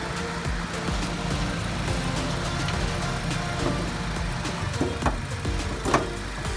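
A 2019 Honda Brio Satya E 1.2 automatic idles steadily and close by, a smooth even engine hum with a few faint clicks and knocks toward the end.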